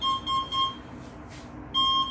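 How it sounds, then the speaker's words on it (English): A PAR-03 D powered air-purifying respirator beeps as it switches on: three short electronic beeps in quick succession, a pause, then a longer steady tone, clear and close with no talking. "Now you can hear the beep."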